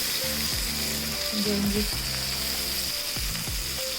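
Finely chopped onions fry to light brown in a pan for vegetable rice, giving a steady, close sizzle and crackle with occasional stirring scrapes.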